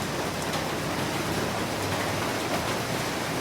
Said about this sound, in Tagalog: Umulan na talaga siya